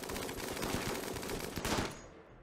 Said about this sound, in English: You have a minigun, so just fire sort of just down that way